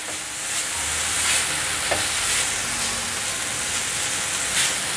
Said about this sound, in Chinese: 香菇稍微变软了，放入红萝卜、 花椰菜，快速翻炒。